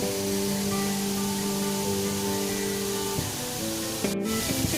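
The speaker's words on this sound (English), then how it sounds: "the aerated water pool." Steady broadband spray of water from an aerated pool in a city park, a continuous hiss running throughout with faint tonal hum beneath and a brief sharper splash near the end.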